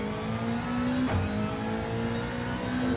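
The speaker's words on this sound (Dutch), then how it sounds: "Zijn auto die stottert als een malle gek." A racing car engine in Gran Turismo 7 at the Nürburgring GP hums steadily with a sustained tone and a brief hitch near the middle, suggesting a stutter, with no talking.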